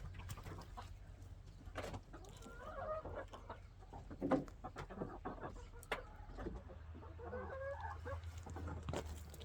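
Chickens cluck and murmur in a coop, with scattered close squawks and the rustle of birds moving about, a busy, moderately quiet chorus and no talking.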